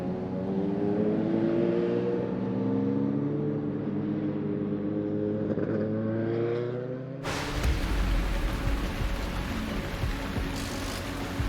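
A BMW 3.0 CSL and a Ford Capri RS race at night at Spa in a violent rain shower. A droning engine note climbs through the gears, then cuts sharply to a loud wash of spray and rain over the engines.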